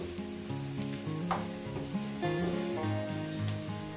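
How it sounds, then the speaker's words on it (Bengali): Small radish and its stalks frying in a pan with mourala fish for a curry, producing a loud, continuous crackling sizzle with scraping stir noises, with no talk over it. "আরও 1-2 মিনিট কি 3 মিনিট ভেজে নেব।"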